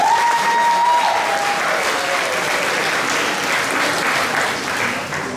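Sustained audience applause fills a school junior prizegiving hall, a dense, steady wash of clapping hands that holds level throughout, with a brief tonal squeal near the start.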